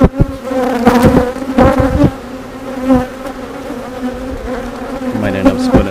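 Honeybees buzz loudly and steadily at an open hive during an inspection, a close, dense hum with a few sharper bursts as bees fly near, alone without talk.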